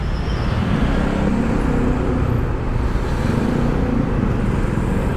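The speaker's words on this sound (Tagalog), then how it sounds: "Punong-puno ang Osmeña Highway ngayon." Dense, steady roar of heavy Monday traffic on a packed Osmeña Highway, engines rumbling close and loud without letup, recorded from a motorcycle squeezing through.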